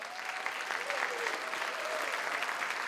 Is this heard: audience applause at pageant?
yes